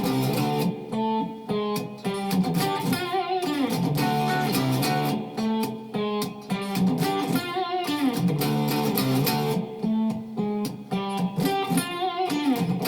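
An electric guitar plays a riff in D Mixolydian, a blues-rock figure with slightly distorted tone that repeats in a steady, loud, rhythmic loop with no talking.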